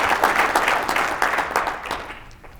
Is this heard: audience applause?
yes